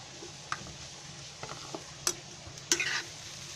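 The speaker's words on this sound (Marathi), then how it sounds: "खोबरं आहे ना असं चांगलं थोडं भाजून घ्यायचं आधी" Grated coconut being dry-roasted in a kadhai over a gas flame, with soft stirring scrapes and faint crackle, punctuated by a few sharper clicks of a spatula against the pan.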